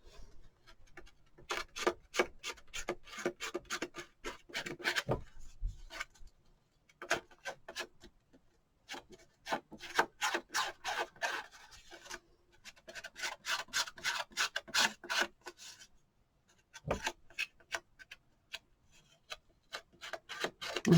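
Edges of an oversized wooden Christmas ornament from a kit are scuffed with short rasping rubs, coming in quick repeated bursts separated by brief pauses, close and fairly quiet with no speech.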